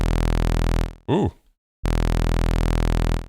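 Cherry Audio SEM software synthesizer plays thick, buzzy sawtooth octaves as sustained loud tones, broken by a short spoken exclamation and a brief silence before the chord returns.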